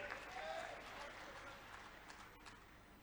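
A crowd claps steadily at a state-level political rally in Seoni, Madhya Pradesh, a dense applause wash that stays fairly even for the whole stretch. A voice rises briefly over it near the start.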